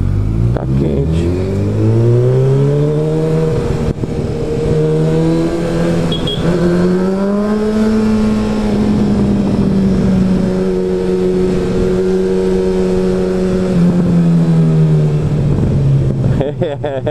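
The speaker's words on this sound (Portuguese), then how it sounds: "Só o barulho do escapamento assustou assim." A car's exhaust booms as the engine revs and holds, a loud, close, droning roar rising and falling in pitch over several seconds before settling into a sustained throaty rumble.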